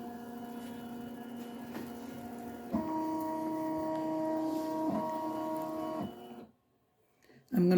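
A Ricoma EM 1010 multi-needle embroidery machine hums and whirs steadily as it traces a design outline, its motor tone shifting in pitch a few times before cutting out briefly near the end.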